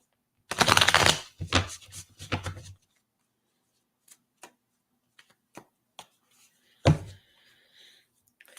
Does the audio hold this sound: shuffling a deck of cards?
yes